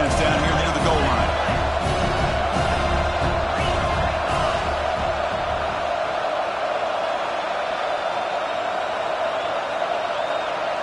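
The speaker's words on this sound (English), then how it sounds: "this big crowd doing everything possible to inspire this defense down here near the goal line" A big football stadium crowd roars near the goal line, loud and sustained at first with sharp shouts, then thinning to a steadier hum of voices in the second half.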